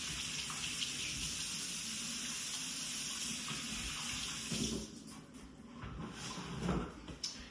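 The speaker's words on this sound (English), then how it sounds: "I'm going to wash my hands real quick." A kitchen tap runs steadily as hands are washed during pork belly burnt ends prep, a close, continuous rush of water that breaks into uneven splashing and sputtering toward the end.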